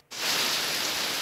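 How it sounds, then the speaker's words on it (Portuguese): Heavy rain pours down steadily right outside a room entrance, a dense, loud hiss that starts abruptly and holds constant throughout with no voices. "agora choveu mesmo"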